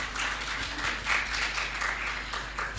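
Audience applause at the launch of Kenya's National Plastic Action Partnership, a steady, dense patter of many hands heard from a distance, fairly quiet, with no talking over it.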